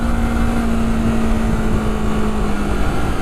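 A Honda CBR 250RR motorcycle engine running at high revs on a track, a steady loud whine holding near one pitch with a busy rough undertone, close and continuous without talk.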